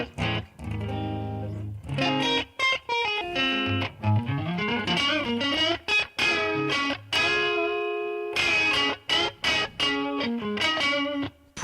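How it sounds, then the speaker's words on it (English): Electric guitar played with a clean, slightly driven rock tone: strummed chords and single-note runs with short pauses, close and loud, no talking. "So we got a guitar, right? Clean sound."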